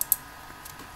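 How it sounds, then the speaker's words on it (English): A few quick clicks of typing on a computer keyboard, close and fairly crisp, with a couple of sharper keystrokes at the start and soft tapping after. "hear me typing a little bit because, well, I'm bringing up some stuff"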